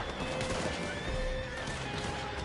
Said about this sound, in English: These horses are being loud as hell.